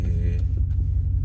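Deep, continuous exhaust drone from a muffler-deleted 2017 RAM 2500 Big Horn Hemi heard from inside the cab with windows up, a heavy low rumble under a medium throttle pull that holds steady throughout.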